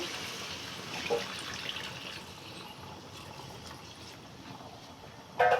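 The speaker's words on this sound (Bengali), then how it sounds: "আমি গরম জল বসিয়েছি, তো এর মধ্যে আমি গরম জলটাই ঢালবো" Hot water pours steadily onto country chicken in a pot, a soft, even rushing flow that continues for several seconds before a brief clink near the end.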